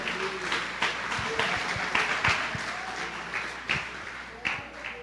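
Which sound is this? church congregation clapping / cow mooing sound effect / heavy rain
church congregation clapping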